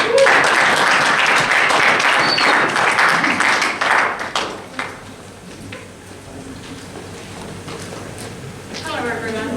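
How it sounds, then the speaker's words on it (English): An audience at a sports team's awards night gives a big round of applause for the announcement of the MVP winners, with dense clapping that swells and then tapers off into scattered claps and a quieter room. "Big round of applause."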